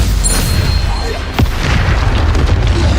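A Stupefy spell cast in the Hogwarts Legacy video game lands as a single sharp magical boom partway through, set against a busy, constant wash of combat effects.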